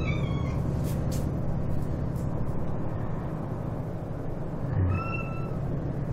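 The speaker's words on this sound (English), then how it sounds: "That's my cat crying." A pet cat meows near a computer setup, a few short cries standing out over a steady low hum of machine or game noise.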